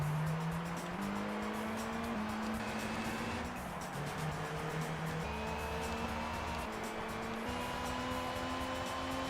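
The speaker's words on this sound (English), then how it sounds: "Hear the engine of that Beat, man." A Honda Beat's small engine revs up and up through the gears in the racing game Gran Turismo 3, a steady buzzing drone rising in pitch with brief shift dips, loud and continuous with faint tire noise.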